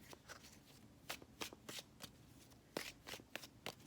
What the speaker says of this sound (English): Let me just pull one more card here.